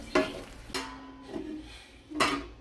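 Coriander and cumin powder being sautéed with a little water in a pan, with sharp sizzling bursts and spoon scrapes against the metal, close up and with no talk.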